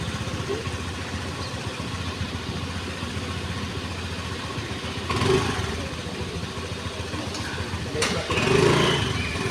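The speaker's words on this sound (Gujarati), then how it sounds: "ગેસમાં એક્ટિવા ચાલુ થઈ ગયું મસ્ત" A Honda Activa scooter engine running steadily at idle nearby, a continuous mid-pitched hum with a couple of slight rises in revs, while people talk over it.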